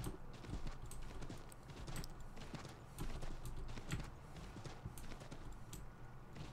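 Horse hooves pound at a run in Assassin's Creed 3 on PC, a steady galloping rhythm of close, loud thuds over a dense game soundscape, with no talking.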